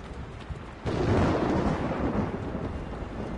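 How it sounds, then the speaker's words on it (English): A night thunderstorm with rain in the video game Assassin's Creed Revelations: a sudden deep, rolling thunder rumble breaks in about a second along over a steady bed of falling rain, then slowly fades. "I trust Ezio to come on a night where it is raining."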